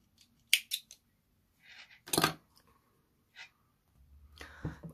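Scissors cutting knitting yarn during a knitted beret project, heard as a few sharp close snips in quick succession, with soft handling rustles and breaths between them and no speech.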